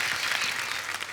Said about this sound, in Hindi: एक टैलेंटेड फैमिली के लिए जोरदार ताली हो जाए।